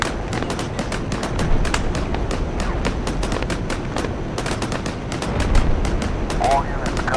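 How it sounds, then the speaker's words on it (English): Artillery and gunfire in a war video game, a constant rumble of shots and distant blasts with frequent sharp reports throughout, with a voice speaking over it. "Artillery is coming down beyond that rise too"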